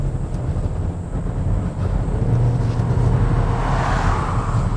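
A 2018 Hyundai Tucson with the 1.6-litre diesel, AWD and dual-clutch transmission pulls away under acceleration, giving a steady low engine drone mixed with road and wind noise from inside the cabin.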